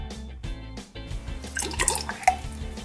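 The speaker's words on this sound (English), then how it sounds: "We're gonna start by adding 30 ml of water." Water is poured into a large test tube, a short, close trickle with light splashing and dripping that grows busier toward the end.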